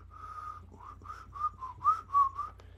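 A lone whistle from a movie scene, a short melodic sequence of rising and falling notes with brief gaps between them, clear and fairly quiet, without speech.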